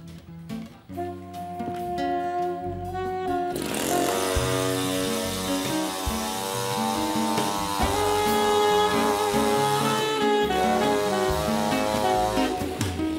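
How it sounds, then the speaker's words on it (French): A chainsaw is started and revved on a comedy TV show set, a loud droning engine roar with a strong harmonic whine that swells sharply after a few seconds and holds steady to the end. "Fais péter la tronçonneuse"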